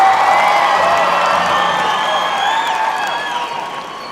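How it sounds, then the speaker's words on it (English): An audience applauds and cheers at the Gathering of Nations powwow. Sustained clapping rises from a large crowd, with whoops and high shouts over it, and it fades slightly toward the end. "Let's give her a big round of applause."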